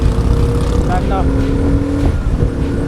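A Harley-Davidson motorcycle engine rumbling at a low, steady idle close by, with people talking over it.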